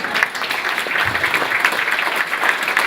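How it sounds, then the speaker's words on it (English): An audience at a union centre meeting in Salford gives a sustained round of applause, with many hands clapping close and fairly loud at an even level. "Just a nice round of applause."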